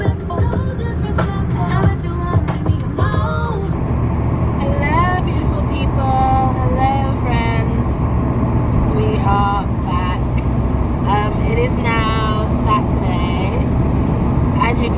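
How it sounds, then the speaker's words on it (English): Steady road noise fills a moving car interior, a constant low rumble and hum running throughout while a person talks over it. "I'm driving back home."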